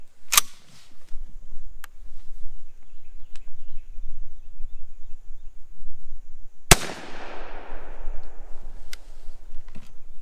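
A Mossberg SA410 shotgun loaded with 9.5 shot fires once at a turkey pattern target outdoors, a single loud, sharp blast that rings out and fades. A smaller crack sounds near the start, with a low rumble underneath.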